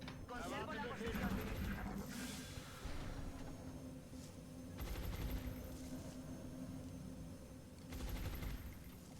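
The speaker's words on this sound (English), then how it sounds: "they're shooting my back line." Bursts of gunfire in the strategy video game Long War, a few rattling volleys sounding faint and muffled against a low rumbling game background.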